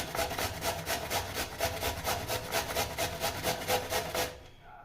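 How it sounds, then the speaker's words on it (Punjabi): A raw potato is grated by hand in steady, rhythmic rasping strokes, about a dozen close scrapes in quick succession that then stop, with no talking. "ਇਹਨੂੰ ਆਪਾਂ ਕੱਦੂਕਸ ਕਰ ਲੈਣਾ ਆਲੂ"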